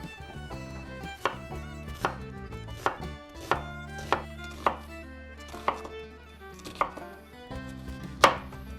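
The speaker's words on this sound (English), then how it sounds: "For our gravy, we just start with 2 onions. Slice it." A knife slicing onions for bangers-and-mash gravy, about ten crisp chops on a cutting board in an uneven rhythm, close and clear with no talk.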